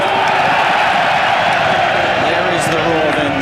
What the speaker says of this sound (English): There is the roar then that sends them on their way for the first race of the 2003 Cheltenham National Hunt Festival